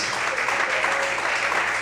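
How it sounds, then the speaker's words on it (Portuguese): A church congregation breaks into applause during a sermon, a brief, dense, steady patter of many clapping hands with a faint sustained voice tone underneath. "Quantos podem aplaudir e exaltar ao Senhor por isso?"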